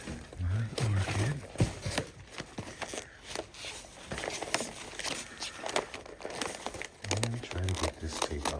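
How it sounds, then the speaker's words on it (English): Tape pulled off a cardboard shipping box packed with foam peanuts, heard as close crinkling, tearing and rustling in irregular bursts, with a person talking throughout. "Try to get this tape off."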